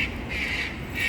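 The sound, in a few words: loud bird squawking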